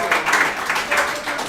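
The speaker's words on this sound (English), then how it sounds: "Please give a round of applause here to your families we got out here." Families applaud at a fathers-and-sons baseball team gathering in a pizza restaurant: steady rounds of clapping and cheering swell in several waves over a brief stretch, fairly close and lively.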